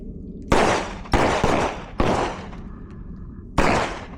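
Four sharp, loud gunshots ring out nearby during firearms training at a range, spaced irregularly with short gaps between them, each cracking sharply and then echoing away.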